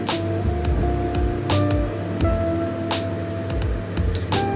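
Boiled bottle gourd is tipped into hot oil with five-spice seeds, setting off a loud, dense, continuous sizzle and crackle, close up and rain-like, with occasional pops and no talking.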